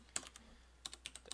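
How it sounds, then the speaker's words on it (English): Someone typing on a mechanical computer keyboard while setting up a CentOS Linux server: a quick burst of crisp key clicks, a short pause, then a faster run of clacks, close and fairly quiet, with no talking. "I have a mechanical keyboard, so I make typos a lot."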